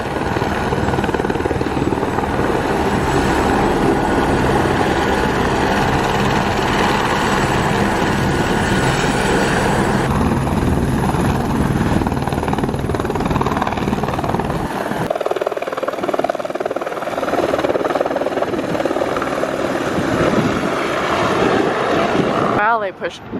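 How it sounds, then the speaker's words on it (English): A loud helicopter drones and whirs up close, its rotor noise swelling and then thinning out as it takes off for a glacier tour in Alaska, with voices faintly mixed in. "the helicopters are very loud, but they're getting ready to take off"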